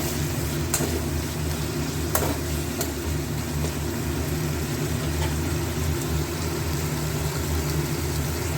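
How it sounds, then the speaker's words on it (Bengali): Onion with garlic, ginger and green chilli paste fries in a pan, giving a steady, even sizzle that holds unbroken throughout, with a few brief scrapes and no voices. "পেঁয়াজ আর রসুন আদা বাটাটা একটু ভাজা ভাজা হোক"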